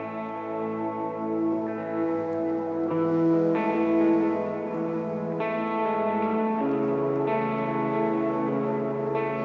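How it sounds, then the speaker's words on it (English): Sustained layered synth pad chords with a soft, reverberant wash, shifting through several chord changes over a steady level with no voices. "my pad sounds like this."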